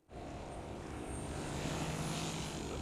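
Propellers of a homemade V-22 Osprey model aircraft in forward flight, a steady loud whirring drone holding close and constant throughout, with no talking.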